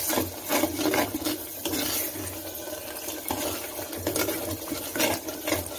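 Tamarind water is ladled into a clay pot for a spicy Kerala-style seer fish curry: close, repeated scraping and sloshing strokes in uneven bursts, with no voices.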